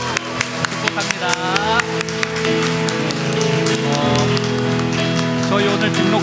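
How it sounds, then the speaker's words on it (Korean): A congregation applauds at a Korean church's Christmas thanksgiving Sunday service as flowers are presented to a new member. Dense, patter-like clapping is loudest at first, then blends with music and a speaking voice. "구역장님께서 꽃다발 전달해 주실 때 큰 박수, 축복의 박수 부탁드리도록 하겠습니다"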